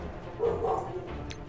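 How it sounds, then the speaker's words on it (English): A dog gives a single faint, muffled bark in the background of a quiet room, brief and somewhat distant. "My dog's barking. Stop barking, please."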